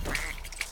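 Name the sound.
duck quacking in Rayman video game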